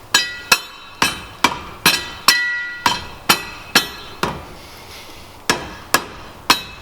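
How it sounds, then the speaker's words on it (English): A hammer strikes repeatedly while a drift car's flywheel is swapped in the pits at a Formula Drift Irwindale competition. About fourteen sharp, ringing metallic blows land at a steady, slightly uneven pace, close and clear. "A hammer? A hammer."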